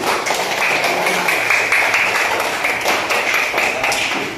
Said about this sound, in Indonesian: tepuk tangan untuk kelompok itu